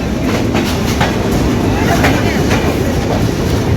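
The Benapole Express pulls into Kushtia Court station in Kushtia, Bangladesh, with a loud, close, steady rumble and clatter of rolling wagons. Voices mix in underneath.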